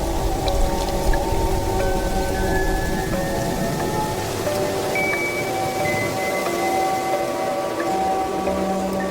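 Steady rain hisses continuously over the Mara River area in Africa, with sustained musical tones playing underneath.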